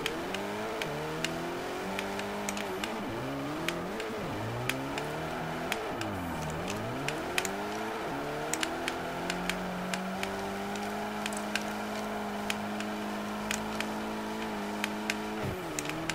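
A Nissan Silvia S13 in the racing game Forza Motorsport 4 revs hard at full throttle, its engine note climbing and dropping through repeated gear changes, with steady tire and wind noise underneath and no talking.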